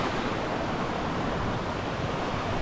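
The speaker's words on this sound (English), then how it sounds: "And there's our first waterfall as we are making our way through this trail." Waterfall along a creek trail in Whitney Canyon Park, a steady, dense rush of falling water that fills the whole clip at an even level, close and continuous with no voices.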